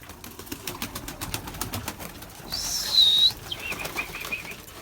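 Breeding pigeons in a loft give a brief burst of fluttering wings midway through, over a low, steady background with no talking.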